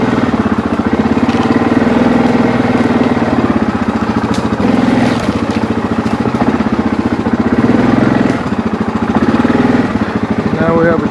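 A four-wheeler ATV engine drones steadily up close while riding along a wooded trail, a continuous buzzing putter that holds throughout.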